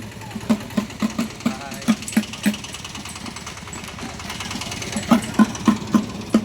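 A small tractor engine idles at a village temple during a Mattu Pongal festival, thumping in a steady, rapid rhythm at close range over light background noise.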